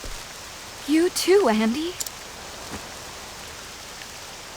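Rain falls in the video game Octopath Traveler 2 as a steady, soft hiss that runs from start to end, while a voice briefly speaks partway through.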